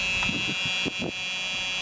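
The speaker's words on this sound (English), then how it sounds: "My buzzer sounded, indicating I have low air." A steady, continuous electronic low air pressure warning buzzer in a truck cab holds throughout, with a few low thumps and knocks underneath.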